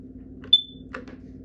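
A combination smoke and carbon monoxide alarm under test gives a single short, piercing high-pitched beep, followed by faint clicks against a low steady hum.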